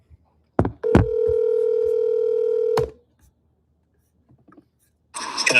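A single long electronic telephone ring tone sounds for about two seconds, followed by quiet and some faint clicks.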